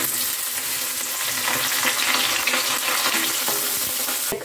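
Green chilies hit hot oil already holding chopped ginger and garlic, giving a loud, steady sizzle and crackle that runs unbroken throughout, with no voices over it.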